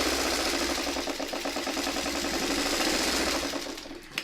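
A sewing machine stitches quilting lines across a placemat, a steady rapid mechanical whir with fast needle chatter that runs loud and close before slowing and stopping at the end, with no talking.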